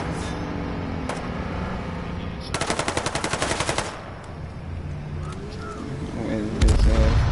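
Loud rapid burst of automatic gunfire in the battle royale game H1Z1 on PS4, about a dozen fast evenly spaced shots over a second, amid game noise with a heavy thud near the end.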